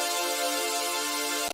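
Bright, buzzy synth chord stack of four layered presets for a hyperpop type beat, sustained steadily with no rhythmic gating for about a second and a half, then cut off abruptly; no voices.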